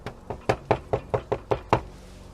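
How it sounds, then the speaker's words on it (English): Knuckles rap on a chapel door in a quick, even series of about eight solid knocks, close and fairly loud, with nothing else in the background. "Knock, knock, knock."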